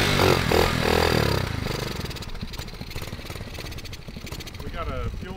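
110cc pit bike engine in a revived abandoned go kart, revved hard at first then dropping to a rough, uneven idle with a fuel delivery problem and poor throttle response, under people talking.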